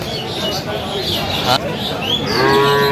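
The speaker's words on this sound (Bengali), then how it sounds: "গাভী বাছুর" Cattle moo at a busy dairy cow market, with a few low calls rising over a crowd of overlapping voices and background chatter.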